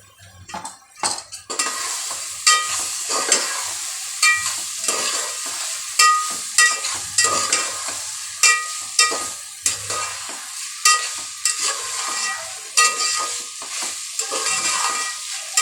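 Moong dal is stirred in a cooking pan with turmeric, giving repeated close scraping and clinking strokes of a spoon against metal over a soft sizzle, in rhythmic bursts.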